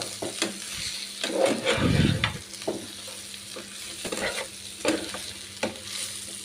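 Chicken fry with fresh coriander is stirred in a hot pan, a close, continuous sizzle broken by repeated scraping strokes of a spoon and one louder rustling burst, with no speech.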